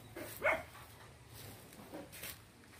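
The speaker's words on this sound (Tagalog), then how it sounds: "Galit na galit yung mga aso." Several angry dogs bark outdoors, a quick sharp bark standing out early and then fainter, more distant barking against a quiet background hiss.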